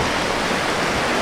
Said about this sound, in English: the waves hitting my feet